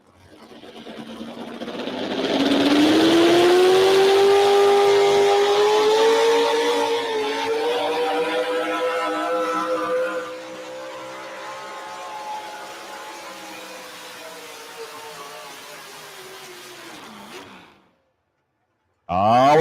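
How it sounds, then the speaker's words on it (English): A modified four-wheel drive pulling truck with a motor of roughly 650 to 700 cubic inches roars at a truck pull, its loud sustained engine note climbing in pitch, holding at full power, then fading and dropping away before a brief burst at the end. "Modified four-wheel drive division, you're going to hear about motors somewhere in the neighborhood of 650 to 700."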